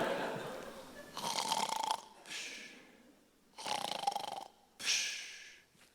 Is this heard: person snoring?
yes